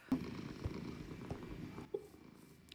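Cats purring in Minecraft, a soft continuous low rumble with a few brief higher meows or chirps, moderately quiet with no talking.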